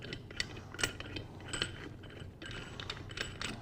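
Cover bolts being tightened one after another in a star pattern on a PRV assembly, giving faint, light ratcheting and metallic clicks in short bursts with no voices.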